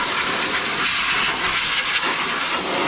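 Compressed air blasts steadily over truck front brake parts during a brake upgrade, a loud, close, continuous hiss.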